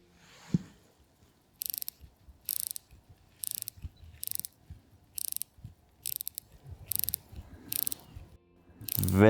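A modern Habring wristwatch mechanism being wound or worked, giving repeated short bursts of fine ratcheting clicks in a steady rhythm, close and intimate against near silence, ending with a louder handling sound.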